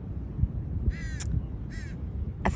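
A crow caws twice, two harsh, distinct calls from a short distance away, over a low outdoor rumble. A third caw starts just as the sound cuts off.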